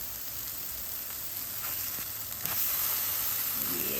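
A ground meat patty frying in a pan gives a steady, soft sizzle and hiss, close by, swelling slightly toward the end with no talk over it.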